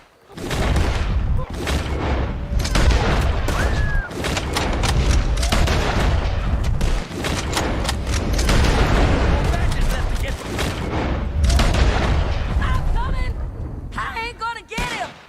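Dense gunfire crackles through a shootout with O'Driscoll gang members in Red Dead Redemption 2, with loud, overlapping shots and booming blasts rattling almost nonstop for the whole stretch and only brief lulls between volleys.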